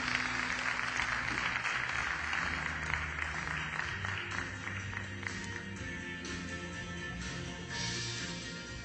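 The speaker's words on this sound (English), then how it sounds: "Please give him a round of applause even as he comes." Audience at a presidential outreach awards ceremony applauding as an award recipient comes forward, a soft, distant patter of clapping that fades slightly and then swells again near the end.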